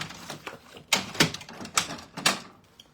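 A drawer is pulled open and rummaged through for labels, giving a series of sharp wooden knocks and sliding clatters at a steady pace, close by and fairly quiet.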